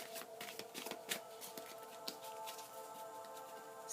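Angel answer cards being shuffled give a run of rapid, close riffling flutters and soft slaps, repeated in uneven bursts over a quiet background, with no voices.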